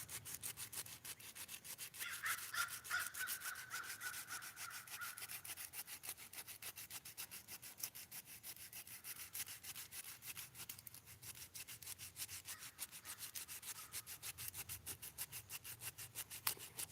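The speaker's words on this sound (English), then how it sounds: "Now I'll start sanding this bowl, which is the hardest part to sand" A hackberry wood spoon bowl is hand-sanded with steady, continuous rubbing and scratching strokes, faint and close, with no talking.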